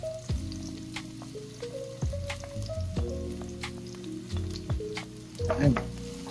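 Chopped garlic sautéing in a pan for Filipino pork humba, with a steady close sizzle and repeated clattering stirs of a utensil against the pan, a louder scrape near the end.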